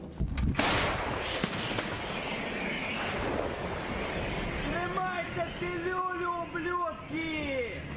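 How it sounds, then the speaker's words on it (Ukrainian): A camouflaged Hyacinth artillery battery in a Donetsk-region forest fires a single loud, sharp blast near the start, followed by a rumbling roll while soldiers talk as they reload heavy 48 kg shells. "Гармаші швиденько заряджають і посилають ворогу ще кілька снарядів."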